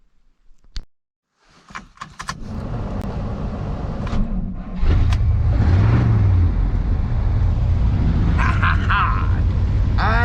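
A car with a new alternator: a door thump and some handling noises come first, then the engine starts and runs with a steady, loud, close idle rumble that lasts to the end.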